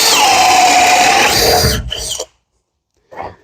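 Power drill with a long bit boring through doubled wooden wall studs during electrical rough-in, a loud steady grinding whir for nearly two seconds that stops abruptly, followed by a short quiet gap and a brief faint rustle.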